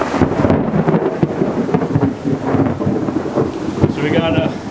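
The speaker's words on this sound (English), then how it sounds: "So we got a little bit of a thunderstorm going on." Heavy thunderstorm at a humid wooded log cabin, with steady loud rain and rolling rumbles of thunder throughout, close and continuous, no voices.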